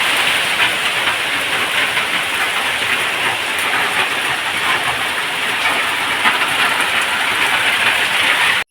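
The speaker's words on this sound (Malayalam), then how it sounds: "പിന്നെ പുറത്ത് നല്ല മഴ തന്നെയാണ് കേട്ടോ" Heavy rain pours steadily outside, a loud, dense, unbroken hiss that stays constant from start to finish with no voices.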